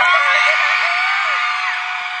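A concert crowd at a band's show screams and cheers, a dense sustained wall of high-pitched shrieks and whoops that stays loud throughout, with no clear single voice.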